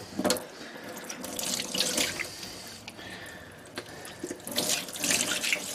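Tap water runs and splashes while a butchered bird is rinsed of feathers in a sink. The close, steady flow rises and falls as the bird is moved under it, with no talking.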